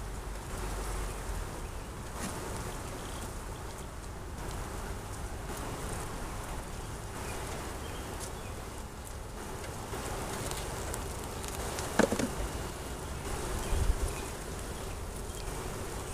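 Honey bees buzz in a steady, dense drone close by, with a couple of faint clicks near the end.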